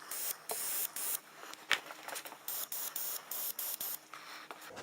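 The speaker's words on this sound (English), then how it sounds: "since you've got this can in your hand with a nozzle on it, you just want to keep painting" Short bursts of aerosol spray paint hiss in quick repeated passes as camouflage is sprayed onto a 20-gauge shotgun, each puff close and fairly loud with brief gaps between.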